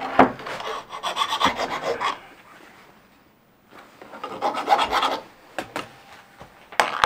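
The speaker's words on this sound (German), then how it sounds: "die Kanten hier feilen wir noch" Metal file rasping along the edges of a router table plate made for a Bosch POF 1200 router, in two bursts of repeated scraping strokes separated by a quiet pause.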